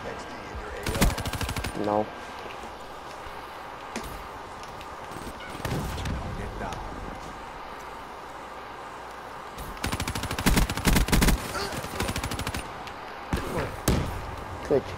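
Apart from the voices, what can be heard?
gunfire in Call of Duty Black Ops 3 video game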